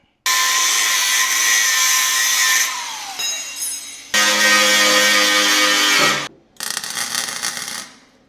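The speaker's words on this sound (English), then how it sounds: "All I'm gonna do is grind this down so I can get a bit of good metal" Power grinder grinding down metal on the box side of a cheap Chevy rat rod, with long loud continuous bursts of high whining grind broken by short pauses and a changing pitch as the disc loads.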